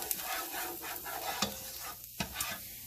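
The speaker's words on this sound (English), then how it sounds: "Stir this around." Food is stirred in a sizzling frying pan, with several sharp scrapes and clacks of the utensil against the pan over a steady fry while pork chops are being prepared.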